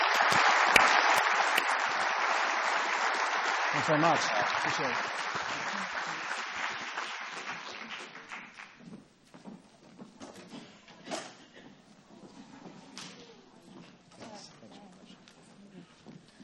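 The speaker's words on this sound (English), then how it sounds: "Round of applause for these guys." Audience applause for panel speakers at a media-landscape talk, a loud, dense burst that fades over several seconds into scattered claps, while a man briefly thanks the crowd.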